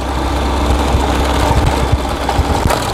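A Libero motorcycle engine runs steadily up close on a ride toward a village, giving a continuous low rumble with a broad noisy texture and light irregular knocks throughout.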